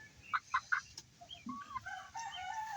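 A Plymouth Rock rooster gives three quick clucks, then a stretch of softer clucking and chicken calls, fairly close but not loud, on a free-range chicken farm.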